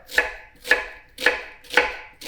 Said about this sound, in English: Next stage is you want to slice down the onion.